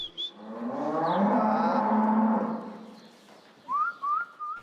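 A cow on a farm gives one long, low moo, fairly close, with short whistle-like calls from elsewhere on the farm before and after it.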